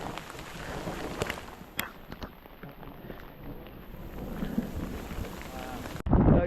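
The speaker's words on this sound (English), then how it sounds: "It's hailing and it's raining." Rain and hail pattering outdoors during a mountain hike thunderstorm, with sharp ice-pellet ticks, distant rumbles and people talking over the steady wash, ending in a loud close gust.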